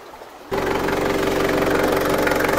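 A Ford Ranger is started cold on a chilly day. After a quiet moment the engine catches abruptly and settles into a steady, close, droning idle.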